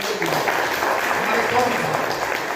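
An audience claps to welcome a guest, giving steady dense applause over its full length, with voices mixed in underneath.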